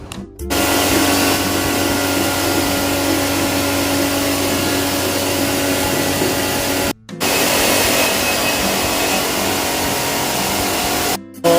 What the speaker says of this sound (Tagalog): Pressure washer mo.